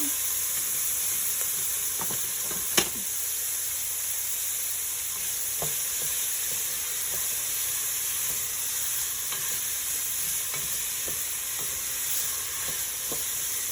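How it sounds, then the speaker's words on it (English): Onions sauté in a pan for the chicken and dumplings, a steady, even sizzling hiss that runs throughout. Occasional faint stirring ticks and one brief sharp knock early on stand out, and there is no speech. "you're gonna wanna let these cook down just for maybe a minute or two because you want the onions to be a little bit translucent"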